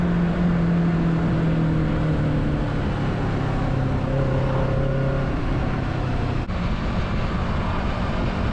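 A Kawasaki Z650 motorcycle in fourth gear is pushed hard on the throttle to overtake a car, giving a loud, continuous engine drone. Rising tonal harmonics cut through heavy wind and road rush, and no one speaks.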